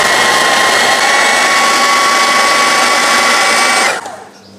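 An electric food chopper mincing food very finely whirs loud and steady, a dense high motor-and-blade roar that runs for about four seconds and then winds down abruptly to quiet.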